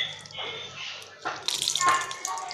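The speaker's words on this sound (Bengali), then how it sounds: "এরপর শাকগুলোকে ধুয়ে ভালো করে জল দিয়ে হাত দিয়ে এভাবে চিপড়ে মুঠি করে নিয়েছি" Mustard greens are washed and squeezed by hand in water, with close, uneven bursts of sloshing, splashing and trickling that swell and fade as handfuls are wrung out.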